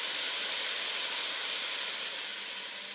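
Bacon and Brussels sprouts fry in a pan on high heat, giving a steady, close, broadband sizzling hiss that fades slightly toward the end, with no one talking.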